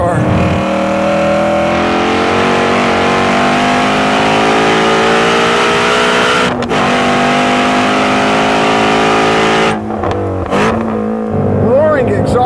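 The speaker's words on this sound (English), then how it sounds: "Roaring exhaust note." A Ford Mustang Shelby GT350 on a track roars close and loud, its exhaust note climbing steadily through the revs, with a brief dip partway and a short shift near the end.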